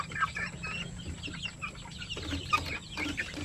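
Young pure Basilan native chickens, about 45 days old, cluck softly in a quiet yard, a scattered series of short chirpy clucks close by with no talking.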